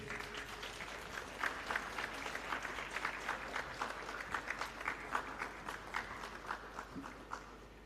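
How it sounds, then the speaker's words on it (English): Applause from the audience at a moot court closing ceremony, heard as faint, distant, steady clapping with many hands for several seconds and no voices over it. "Ladies and gentlemen, could we have a round of applause?"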